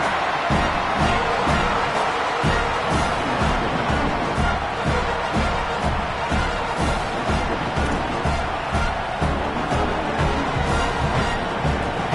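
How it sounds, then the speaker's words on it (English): Stadium crowd in a college football video game roars steadily for the whole stretch, a dense, even wash of cheering and noise with no breaks, sounding big and distant. "It's early, but this crowd is fired up. Listen to this noise here."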